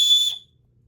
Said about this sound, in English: Also has a whistle there.